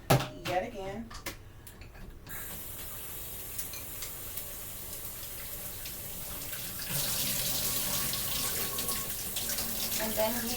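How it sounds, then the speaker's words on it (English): Sliced potatoes rinsed under running water, a steady tap stream that becomes louder and brighter partway through, with a few clicks and knocks at the start. "I'm going to give these a quick rinse yet again."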